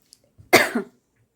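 A single short, harsh cough, close and loud, in otherwise quiet surroundings.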